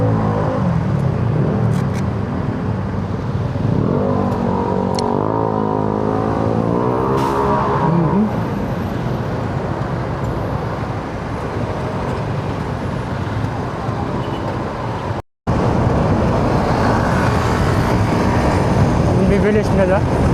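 Fast cars speeding past on a road near LTO Novaliches, a steady roar of traffic with engines swelling and fading, recorded close by with a voice talking over it.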